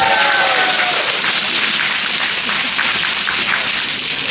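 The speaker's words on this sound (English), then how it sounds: "Let's have another round of applause for these guys." A crowd applauds and cheers at a Wawa store grand opening in Mt Washington, Kentucky, with dense, steady clapping filling the space and a brief voice at the start.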